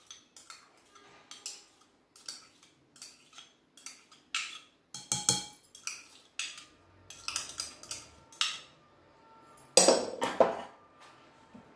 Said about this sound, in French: je rajoute les 2 cuillères de crème fraîche